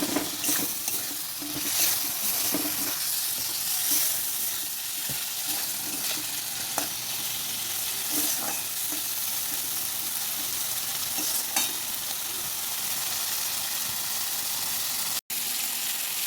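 Pointed gourd and fried potatoes frying in a pan for katla fish curry, giving a dense, even sizzle with occasional soft stirring scrapes throughout and no talking.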